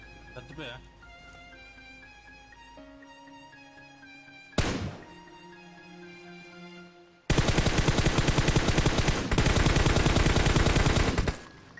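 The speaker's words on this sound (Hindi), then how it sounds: "अब इन बंदों के सर ही सर पे जो गोलियां बाजी है ना" Automatic gunfire in the mobile battle-royale game PUBG Mobile: one sharp shot cuts through tonal game music, then a loud, sustained rapid-fire burst rattles on for about four seconds.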